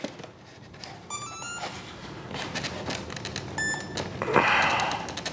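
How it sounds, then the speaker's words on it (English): Two short bursts of high electronic beeping from an unbound RC plane receiver, about a second and a half apart, sound close by amid handling noise and rustling. "So now it's beeping, but it's not bound."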